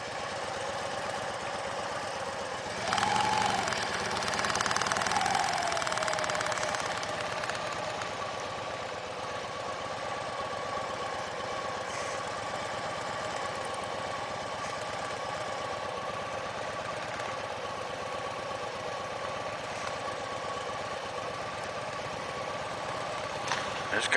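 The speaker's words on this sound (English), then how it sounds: "Bunch of all kind of bikes around here." Motorcycles of various kinds idle and run nearby, a low steady engine rumble throughout with a brief louder revving passage early on, and people talking over it.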